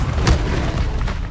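A Confringo fire-blast spell explodes in the wizarding game Hogwarts Legacy, a single short, loud boom with a deep low thump that quickly fades into rumbling background noise.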